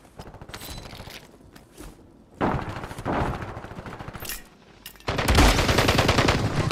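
Video game gunfire in a duos match: rapid automatic bursts and shots, loud and close, with quieter gaps between, building to a sustained heavy volley near the end.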